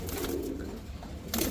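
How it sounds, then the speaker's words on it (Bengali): Two pairs of domestic gola pigeons, a local breed also called raj gola, coo in low, rolling, overlapping calls close by throughout, with no speech. "এখানে দেখতে পাচ্ছেন 2 জোড়া গোল্লা কবুতর, দেশি গোল্লা, অনেকে রাজগোল্লা বলে।"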